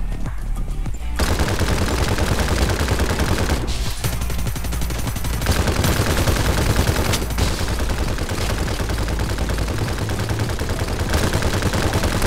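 Video game gunfire from Farlight 84 rattles in dense, loud bursts of rapid automatic shots, a near-continuous fusillade broken by a few brief pauses.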